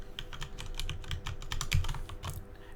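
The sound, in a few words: typing on a computer keyboard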